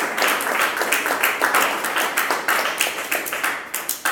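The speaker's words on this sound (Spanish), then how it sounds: "Dale un fuerte aplauso al Señor." A church congregation claps together, dense steady applause with a brisk rhythmic beat, loud and close throughout.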